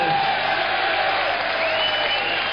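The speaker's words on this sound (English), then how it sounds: "Well, the cheers mixed with some boos here." A boxing crowd at a Georgie Smith versus Anthony Campbell bout cheers with some boos mixed in, a dense, loud, continuous roar of many voices filling the hall.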